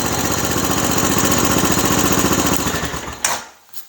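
A Honda TRX-250 Recon ATV engine idles steadily with a loud, even mechanical chug that runs for about three seconds, then cuts off abruptly with a brief clunk, leaving near silence.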